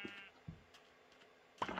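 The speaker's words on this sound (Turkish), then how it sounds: "Burada koyun var." Sheep bleat in a Minecraft desert village, with a short wavering bleat at the start and another louder one near the end, mixed with faint footsteps and blocky game sounds at low volume.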